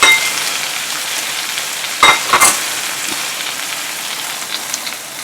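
Jumbo prawns with heads on, frying in a pan, give off a steady bright sizzle with a few sharp crackles and spits, heard alone and fairly close.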